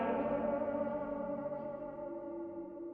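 A song plays from a car radio in Fallout 3, mellow tonal vocals and instruments with an echoey, effected quality, steady and moderately quiet.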